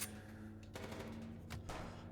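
Gunfire from the video game Chicken Police: Paint it Red! comes as a few quick bursts and sharp shots in a short sequence, heard fairly quietly and with no talking.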